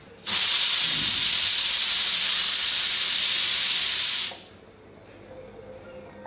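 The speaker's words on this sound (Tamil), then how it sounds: "அடுத்தது இதை வந்து ஒரு 3 விசில் வைக்கிறேன்." A pressure cooker cooking pongal lets out one loud, sustained steam whistle that hisses steadily for about four seconds and then cuts off, leaving a quiet kitchen.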